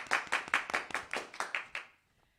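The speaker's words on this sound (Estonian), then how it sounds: "Teeme ühe suure aplausi nüüd 10." Applause rings out for a tenth-grade class at a school holiday assembly: around nine crisp, evenly spaced hand claps close by, then a sudden stop into near silence.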